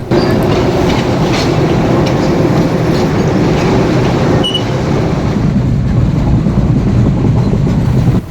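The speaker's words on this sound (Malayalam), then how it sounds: "നമ്മുടെ ട്രെയിൻ വരുന്നുണ്ട് എന്നുള്ള അനൗൺസ് എത്തിയിട്ടുണ്ട്" A train pulls into a station in Sri Lanka on the way to Galle, its loud continuous rumble and clatter of wheels on rails filling the whole stretch, with a brief sharp squeal midway and no talking.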